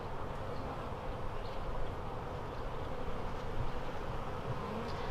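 Honey bees buzzing around an open beehive during an inspection, a dense continuous hum of many insects close by, fairly quiet and unbroken.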